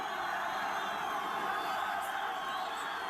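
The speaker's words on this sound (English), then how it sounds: "And we can hear the crowd chanting for Mubarashko." Crowd noise at an Eagle FC 35 mixed martial arts event, a dense, steady roar of voices filling the arena continuously with no clear pauses, loud and sustained throughout.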